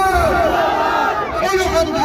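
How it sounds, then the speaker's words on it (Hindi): A crowd at a political rally in Saifni shouts in unison, a loud burst of many overlapping voices rising and falling together, close and energetic for about two seconds. "जोरदार एक नारा लगाइए"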